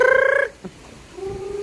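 A chicken on a farm gives a loud, nasal, strained call, then a short click and a lower held note, close by against light background noise.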